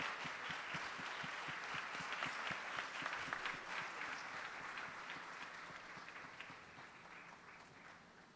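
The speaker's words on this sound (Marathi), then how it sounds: "आपण सर्वजण तिच्यासाठी टाळ्या वाजवूयात." A church congregation applauds a student for her Olympiad prizes and medals with sustained clapping, steady and full for several seconds before gradually fading, a little distant.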